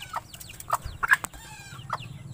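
A bantam hen clucks and calls sharply in short bursts while protecting her chicks, close by over low background noise.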